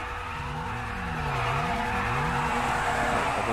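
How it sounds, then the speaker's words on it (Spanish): In GTA V Online, cars skid with sustained, wavering tire squeal over steady engine roar, loud and fairly close, with no talk. "Hay gente ahí derrapando y esperando"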